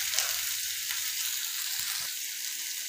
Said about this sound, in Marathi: तर हा कांदा भाजताना एक पळी तेल आपण